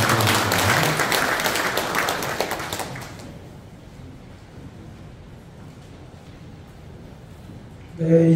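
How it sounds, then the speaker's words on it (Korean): Dense applause from an audience at a civic members' convention in Pocheon, loud for about three seconds, then fading into quieter room noise, with a thump near the end. "큰 박수로 환영해 주시기 바랍니다"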